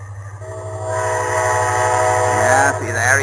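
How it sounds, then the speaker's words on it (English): A train passes near a model airfield, its horn sounding in a loud sustained tone over the low rumble of the rolling cars, rising as it draws close. "that train's a bit noisy."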